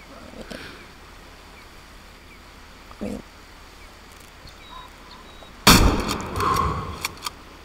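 A single loud rifle shot at a deer in the hunting game Way of the Hunter cracks out sharply after quiet ambience, followed by a brief rumbling tail and a few faint clicks.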